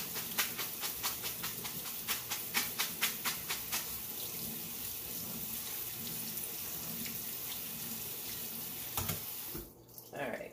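Pasta rinsed under a running kitchen tap, a steady broadband rush of water into the sink with sharp clinks and clatters early on, then the flow cutting off near the end.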